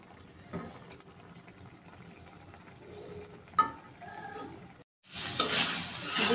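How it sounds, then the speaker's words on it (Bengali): Shrimp are stir-fried with spices and a little water in a pan. A quiet sizzle and occasional stirring scrapes build into a sudden loud, hissing surge of frying near the end. "এবার ভালোভাবে মশলার সাথে মাছগুলোকে কষিয়ে নেব"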